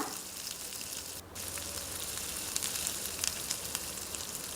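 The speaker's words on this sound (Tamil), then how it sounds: "தக்காளி நம்ம அரைச்சி எடுத்துகிட்டு வந்திருக்கிறனால சட்டுன்னு வெந்துடும் ஸோ நல்லா மிக்ஸ் பண்ணி விடுங்க" Ground tomato and onions sautéing in a pan for a restaurant-style pepper chicken fry, producing a continuous, even sizzle with occasional faint pops and a brief stir, no voices.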